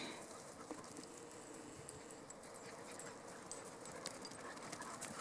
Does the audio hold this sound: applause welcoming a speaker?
no